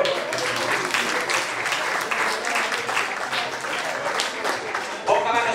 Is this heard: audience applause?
yes